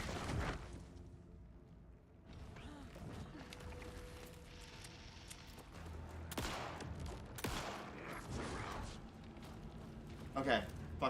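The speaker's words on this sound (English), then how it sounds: "Jimmy, shoot the fucking heart." Gunfire in the video game Alan Wake II, scattered sharp shots and bursts crackling over tense game ambience, with a few louder cracks near the end.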